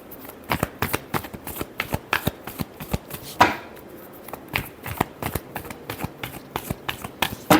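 Tarot cards being shuffled by hand, a dense run of quick riffling flutters and soft slaps that repeats steadily and close up, with no talking.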